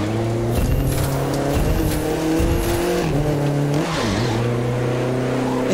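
Audi TT in The Crew 2 racing game sliding on a dirt road under the handbrake, loud engine drone with shifting revs and tire scrub through a continuous skid, no talk.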